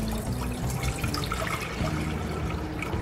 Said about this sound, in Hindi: सबसे पहले हम पैन में पानी ऐड करेंगे, 4 से 5 कप